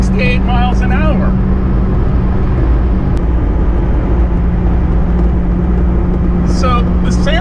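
A supercharged 1991 Subaru Sambar Dias II van cruising uphill at around 110 km/h, a steady, loud engine and road drone filling the cabin from start to finish, with a person talking over it at the beginning and end.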